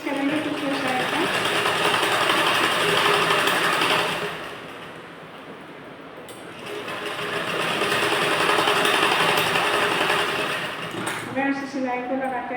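A sewing machine stitching a blouse hums in two long continuous runs, loud and close, with a short quieter pause between them and a brief stop near the end.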